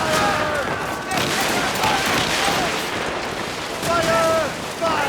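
Ship cannons fire in repeated heavy booms during a naval battle in Assassin's Creed Rogue, with rumbling blasts under shouted voices and the crash of the sea.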